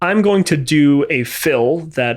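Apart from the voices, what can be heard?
No everyday noise stands out behind the speech.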